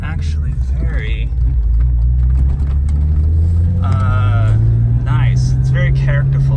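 A 1991 BMW M5 engine with a lumpy hot rod idle, a deep low rumble that rises in pitch as the revs climb, heard steadily beneath someone talking over it.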